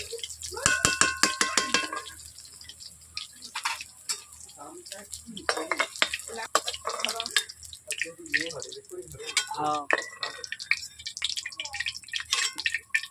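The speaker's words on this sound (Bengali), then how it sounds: "আমি সয়াবিনগুলো ভেজে নিচ্ছি" Soybean chunks frying in a kadai, with a metal spoon clattering and scraping against the pan over a soft, steady sizzle. The sound is close and busy throughout, with sharp knocks near the start.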